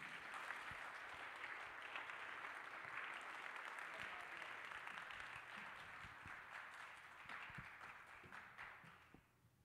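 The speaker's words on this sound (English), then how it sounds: "let's give him another round of applause." A crowd at a statue unveiling at the Internet Archive claps steadily in a sustained, moderately distant round of applause that tapers off at the end.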